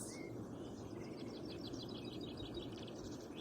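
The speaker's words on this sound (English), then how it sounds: "the birds singing as they're sat on their branches" Birds chirp and sing from branches in trees around an open field, a steady stream of small calls and trills over a constant background of wind hiss through the leaves.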